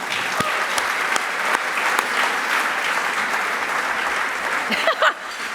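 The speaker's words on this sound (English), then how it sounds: "I just want to give them a round of applause right now, if we can." Loud, dense applause from an audience at a Salvation Army charity event, continuous clapping with scattered louder claps and a brief voice near the end.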